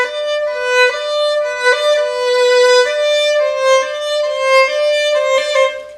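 A solo violin melody plays clearly, sustained bowed notes changing pitch in a gentle phrased line from a song, bright and close with no accompaniment.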